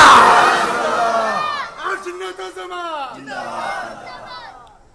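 A large religious gathering loudly chanting Subhanallah and takbir, massed voices swelling into a roaring call, then trailing off into scattered shouts and fading out.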